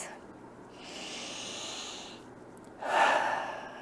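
A person takes deep breaths, two long airy inhales and exhales, the second louder and rougher, close and quiet with no talking.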